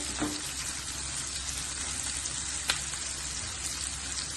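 Onions frying in oil for corn chevda give a continuous close sizzle with soft bubbling. A couple of sharp clicks of a spoon or ladle against the pan break in near the start and again partway through.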